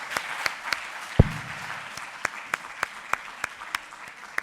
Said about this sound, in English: I'd like to invite you for a family picture and a big round of applause